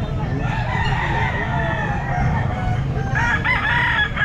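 A 10-month-old Raptor Sweater gamefowl rooster crows loudly and clucks amid the bustle of a pet market, with other fowl calling nearby and a faint hum of people in the background.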